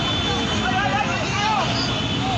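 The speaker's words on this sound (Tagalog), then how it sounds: "Helicopter na! Helicopter na!" Aircraft engine drone, fitting a police helicopter arriving over a shootout scene in Commonwealth, fills the whole stretch as a steady loud wash with voices shouting underneath.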